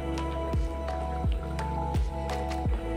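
A spoon stirs millet porridge with vegetables and turmeric in a pot, making soft wet squelching strokes at an even pace, about four squishy turns in a row up close.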